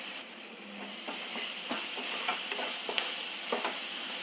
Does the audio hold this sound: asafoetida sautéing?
yes